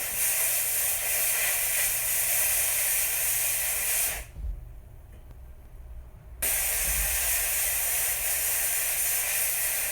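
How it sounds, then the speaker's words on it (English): A high-pressure steam cleaner hisses loudly and steadily on gold and diamond wedding band rings, a dense roar that cuts out for about two seconds and then resumes at full force. "steam them off with a high-pressured steam"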